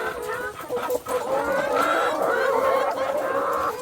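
A noisy flock of turkeys clamors loudly and continuously while waiting for feed, overlapping gobbles and squawks crowding together with no pause.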